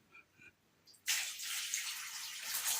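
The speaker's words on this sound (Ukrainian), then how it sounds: "А ти бери кастрюльку в ручки і налий прямо з кастрюльки туди водичкою воду." Water is poured from a saucepan into a jar for salting tomatoes, starting abruptly after a few faint sounds and then running as a steady, close splashing stream.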